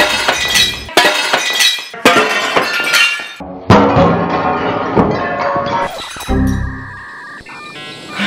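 Shotgun rounds strike a slab of very thick bulletproof glass, producing a series of loud, close, sharp cracks and impacts with crunching, splintering glass. A metallic ringing tone follows near the end.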